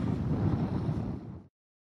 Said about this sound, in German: Und der Wind wird, da kann man sagen, von Minute zu Minute stärker.